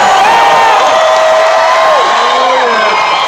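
Packed crowd of thousands at a Trump rally in Daytona cheering and whooping, a loud sustained roar of voices close by with a few individual shouts standing out.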